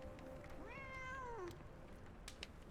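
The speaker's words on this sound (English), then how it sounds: "Kitty. Hello, kitty." A cat meows in a Sherlock Holmes game, one drawn-out falling meow standing clearly over quiet background ambience, followed by a couple of faint clicks.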